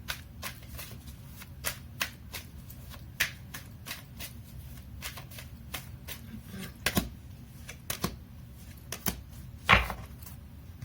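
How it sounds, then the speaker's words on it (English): Tarot cards shuffled and drawn by hand, a dry riffling patter broken by sharp slaps and snaps of cards placed down, close and fairly quiet with no talking. "So let me pull up some cards here from the universe."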